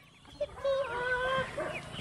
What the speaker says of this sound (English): Brooklyn, Brooklyn, what does the chicken say?